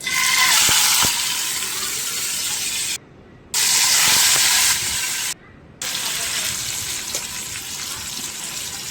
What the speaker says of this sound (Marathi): असे सगळ्या ज्या तुकडे आपल्याला सांबारात टाकायचे आहेत ना ते हलक्याशा फ्राय करून घेऊया